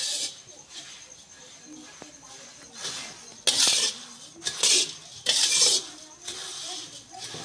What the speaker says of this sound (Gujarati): આ રીતે આપણે મમરાને શેકી લેવું। 2 મિનિટ આપણે શેકશું